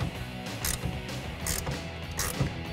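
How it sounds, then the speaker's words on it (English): A ratchet fitted with a 1/2 inch socket tightens a clamp for an Extang eMax soft tri-fold tonneau cover onto a 2015-2018 Ford F150 bed rail, giving close bursts of rapid clicking strokes with short pauses between them. "we'll go ahead and tighten it down with a 1/2 inch socket"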